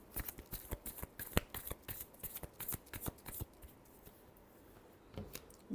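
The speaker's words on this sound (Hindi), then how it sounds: "Last shuffle." Tarot cards are shuffled by hand in quick, crisp riffles and taps, close and fairly soft, with short pauses between bursts.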